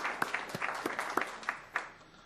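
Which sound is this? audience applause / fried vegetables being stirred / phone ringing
audience applause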